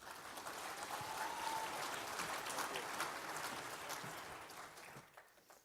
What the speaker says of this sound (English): Please, a round of applause for Graham Stephen.